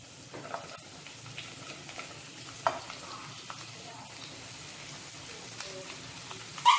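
Chopped mushrooms and garlic frying in a pan make a quiet, crackling sizzle, with occasional soft stirring scrapes and one louder clatter at the end.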